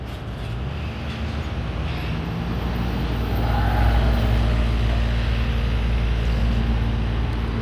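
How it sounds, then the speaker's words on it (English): Trucks pass by on a nearby road as a continuous loud, low rumble and roar that swells to a peak midway and then holds steady, with no voices heard. "Cars, they're actually trucks."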